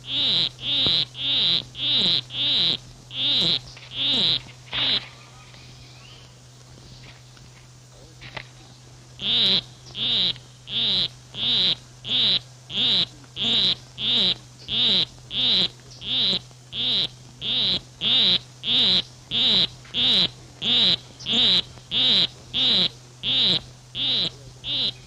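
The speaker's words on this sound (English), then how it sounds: "A male poison arrow frog is courting a female. With his monotonous song, he will try to entice her to follow him" Male poison arrow frog calling to court a female, a loud, close, highly regular series of short buzzy chirps repeated about once a second over a steady low hum, pausing briefly before resuming the same monotonous rhythm.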